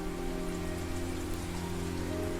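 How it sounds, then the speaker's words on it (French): Steady rain falling in drops on a surface, a dense continuous patter heard alone with a low hum beneath, even and unbroken throughout. "La pluie tombe sous forme de gouttes."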